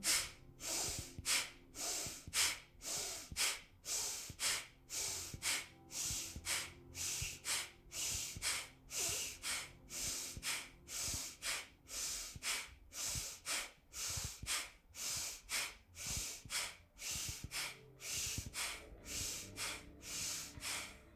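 Forceful bhastrika bellows breathing during a yoga pranayama session: about thirty-five quick, even, rhythmic breaths, close and loud, each one a sharp airy rush through the nose, with no talk.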